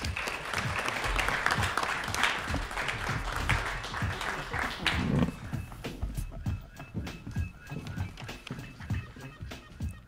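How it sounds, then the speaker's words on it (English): An audience applauds panelists at a university Black History Month unity forum. The dense, loud clapping fills the first half, then thins into scattered claps with some voices underneath. "Please, can we have a round of applause for our panelists?"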